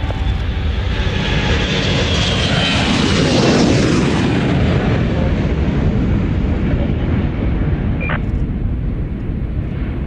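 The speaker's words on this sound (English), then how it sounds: "Give me an aircraft with 4 engines any day." Loud, continuous roar of a four-engine aircraft's engines passing close by at the Royal International Air Tattoo air show, a sweeping drone that swells and slowly fades.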